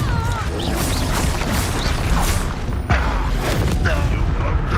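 A Confringo blasting spell fired in a wizarding video game, heard as dense booming and crashing game effects with a sharp blast near the middle, while voices talk over the noise.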